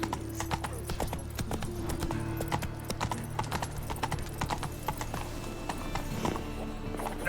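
Roach the horse galloping in The Witcher 3, with steady rapid hoofbeats, close and continuous, plus occasional snorts over a low ambient game bed.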